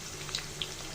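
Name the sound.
onion frying in hot oil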